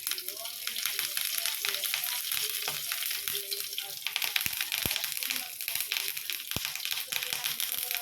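Fresh curry leaves frying in a pan, a continuous close crackling sizzle with a few sharp pops, running under a voice talking.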